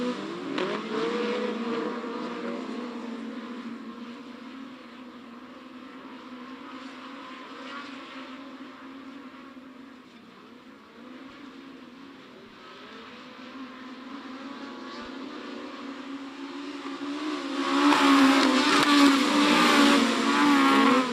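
Autograss race cars racing at Cwmdu in the British Autograss Series: several engines drone and roar at mid distance, swelling and fading as they pass, then growing louder and harsher near the end.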